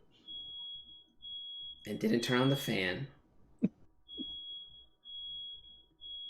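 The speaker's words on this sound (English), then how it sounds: "There's a fire alarm going on." Smoke alarm set off by oven smoke in a house, sounding a repeated high-pitched electronic beep pattern at moderate distance, with someone speaking over it.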